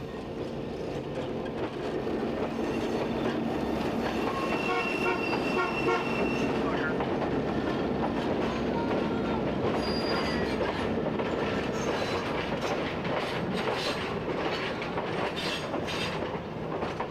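A heritage train on the Santa Cruz, Big Trees & Pacific Railway rumbles steadily over a wooden trestle with clattering wheels, faint squeals and brief horn-like tones, and a voice talks over it.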